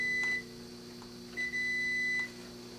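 A multimeter gives two steady continuity beeps, a short one and then a longer one, across the secondary leads of a transformer in a Schumacher SE-2158 battery charger, clear over a low background hum.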